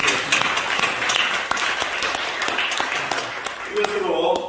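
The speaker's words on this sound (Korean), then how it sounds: "하나님 앞에 영광에 박수를 한번 드리겠습니다" A church seminar congregation applauds, steady crowd clapping with sharp individual claps, fading out as a voice comes in at the very end.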